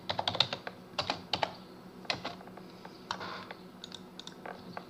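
Typing a name on a computer keyboard, a run of quick close clicking keystrokes in irregular bursts with short pauses, fairly quiet over faint background hum.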